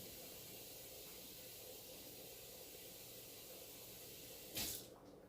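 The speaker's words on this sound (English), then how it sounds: "give it another 500 milliliters of hot water" Hot water pouring into a CO2 fog reaction chamber gives a steady hissing, rushing wash that runs throughout, with a brief louder splash near the end; faint and without voices.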